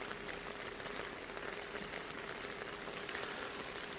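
Heavy rain pours steadily onto surfaces in a rural village hit by flood damage, a dense, even hiss and patter that continues without a break and without talk.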